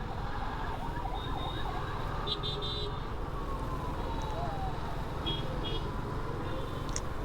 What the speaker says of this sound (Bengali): আমি প্রথমে হর্ন শুনছি যে অ্যাম্বুলেন্স টেঁ ওটে করতেছে